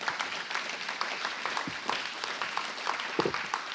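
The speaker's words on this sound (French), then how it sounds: "Je vous propose de les applaudir pour ce temps." Audience clapping for the speakers after testimonies at a French business talk on recyclable packaging: a room full of hands applauding steadily and moderately loud, with a few sharper claps standing out.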